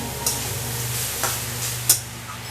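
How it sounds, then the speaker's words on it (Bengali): A spoon mixes pre-cooked rice for a mango rice dish, giving a soft, steady stirring rustle with a few light scrapes and taps against the pot, close by, with no talking. "এই রাইসটা আমি এবার মিশিয়ে নিই"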